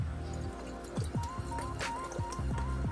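Worcestershire sauce dribbling and splashing into a raw meatloaf mix, a string of small wet drips and squelches, close and quiet.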